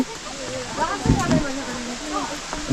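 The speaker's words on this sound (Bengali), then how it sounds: "এই সময় এসে এলিফ্যান্টা ফলসে এসে কিন্তু আমরা জলের দেখ জলের সন্ধান পেলাম এই হচ্ছে জল দেখুন আসছে" Water rushes at Elephant Falls in Shillong as a steady broadband roar, while someone talks over it throughout.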